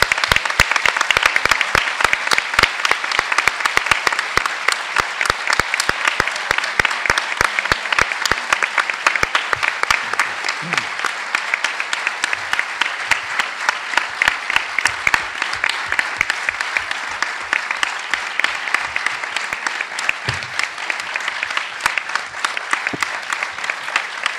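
Sustained audience applause closing a philosophy lecture at a Galician philosophy week, dense steady clapping from a large crowd filling the whole stretch at an even level.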